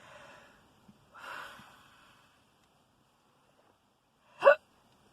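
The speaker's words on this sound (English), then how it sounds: "I hate hiccups." A single sharp hiccup rings out near the end, preceded by a couple of soft breaths or snorts in an otherwise quiet room.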